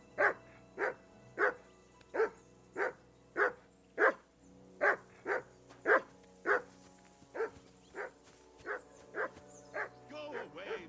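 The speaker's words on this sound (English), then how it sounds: "Whistle at that mutt of yours to stop barking!" A dog barks repeatedly in an even rhythm, about fifteen sharp barks, moderately close, with a faint background hum and no talking, in the video game Kingdom Come: Deliverance II.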